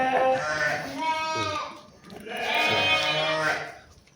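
A five-month-old local sheep on a farm bleats twice in long, wavering calls, close and loud, with a short pause between them.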